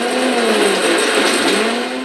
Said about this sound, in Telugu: మిక్సీ పట్టానండి